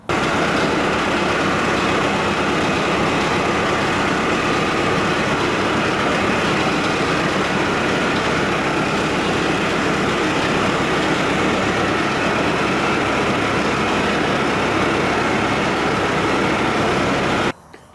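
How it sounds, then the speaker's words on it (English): A tractor engine runs at a steady idle, a loud continuous rumble with a constant mechanical drone and no breaks. "let me get the tractor over there cranked up"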